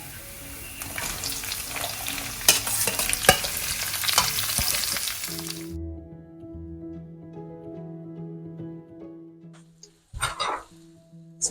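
Cumin and garlic crackle loudly in hot oil, a dense close sizzle with stirring scrapes that cuts off midway, leaving a low steady hum and a brief clatter near the end; no talking.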